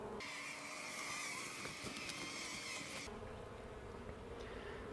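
Honey bees buzz steadily around an open nuc hive, a dense close drone that fills the clip and eases slightly near the end.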